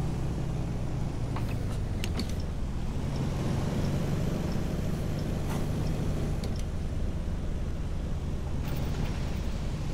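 PAZ 3204 bus engine in the OMSI 2 driving simulator, a steady low rumble and drone setting off and driving, continuous and even with faint clicks on top, no talk.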